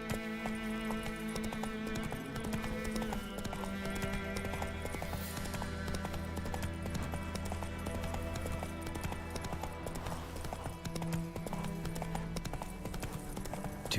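Steady clip-clop of horse hooves trotting in the video game The Witcher 3: Wild Hunt, beneath a continuous musical backdrop, even and persistent throughout.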